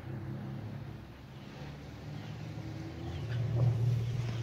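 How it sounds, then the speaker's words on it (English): A car drives past outdoors on a busy road. Its engine rumbles low and steady, then swells louder toward the end as it goes by. "Is that the 12th car that's gone by?"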